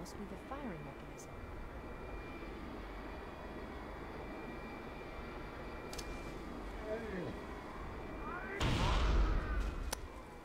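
Weapon fire in the video game Halo CE, heard as a loud burst near the end over a steady rumbling game backdrop.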